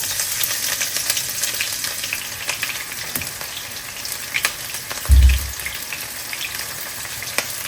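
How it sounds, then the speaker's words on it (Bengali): Chopped onion hits hot oil for a frying dish of tilapia with eggplant, giving a steady broadband sizzle with scattered pops and one louder burst of spattering near the end, with no voices. "তেলটাও গরম হয়ে গেছে আমি দিয়ে দিচ্ছি পেঁয়াজ কুচি"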